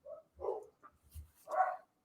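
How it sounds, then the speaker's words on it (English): A dog barks in the background, a few short muffled woofs spread over two seconds, faint and somewhat distant, with no one talking. "You got the pup in the background."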